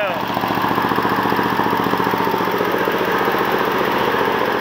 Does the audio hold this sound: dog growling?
no